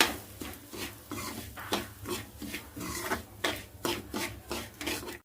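Bombay rava being roasted in oil in a pan, stirred with a rhythmic scraping and rasping, around a dozen regular strokes close by, with no talk.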